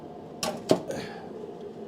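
A ratchet turning a bolt on a snow blower housing gives three short metallic clicks in quick succession, close and fairly loud over a quiet background.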